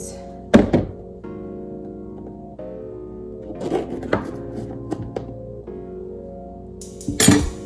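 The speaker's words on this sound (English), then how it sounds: "Now you're going to take half of this small banana. So you're going to want to cut it." A knife cuts through half of a small banana, a few solid thunks of the blade hitting a cutting board with quieter handling sounds between, close by and without speech.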